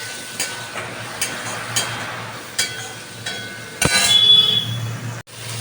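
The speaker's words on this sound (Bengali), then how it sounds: "সয়াবিনগুলো ভালো মতো ভাজা ভাজা হয়ে এসছে।" Soybean chunks fry in oil with turmeric, sizzling softly while a utensil stirs and taps the pan in irregular scrapes, the hiss rising louder toward the end before a sharp cutoff.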